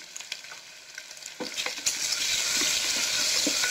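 Onions and tomato sautéing for kurma sizzle in a pan, with a few sharp stirring clinks. The frying grows into a steady, loud hiss.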